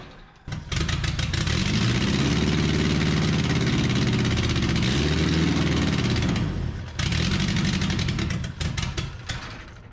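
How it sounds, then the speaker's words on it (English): The engine of a 1981 U-Haul minitruck runs loud and close, surging and revving in waves, then cuts out briefly with a sharp pop before catching again and running on. "When she did a little backfire"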